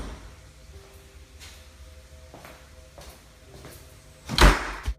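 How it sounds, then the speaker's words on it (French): Near the end, a cellar door slams shut with one sharp, loud bang and a brief rattle. Before it come several faint creaks and knocks. "une autre porte qui amène à la cave, qui se claque bruyamment devant lui"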